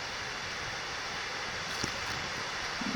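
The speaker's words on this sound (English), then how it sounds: "Little waterfalls, but with no exit to the side." Small alpine waterfalls spilling down a mountain stream give a steady, full rush of water that stays close and even throughout, with no voices.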